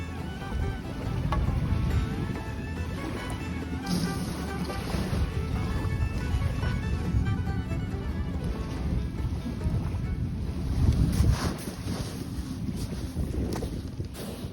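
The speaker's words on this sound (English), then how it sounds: "Conditions are pretty rough and very windy." Strong, steady wind roars and buffets the microphone aboard a small sailing boat in rough conditions, with water rushing and sloshing against the hull throughout.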